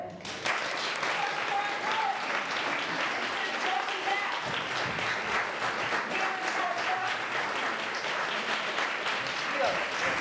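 Continuous crowd applause greets guests at a London press conference for Alice Through the Looking Glass, a thick steady wash of clapping lasting several seconds with faint voices mixed beneath.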